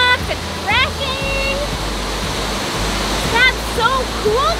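Loud, powerful waterfalls crash and bubble white over rocks outdoors, a constant heavy roaring rush that fills the whole scene while voices speak over it.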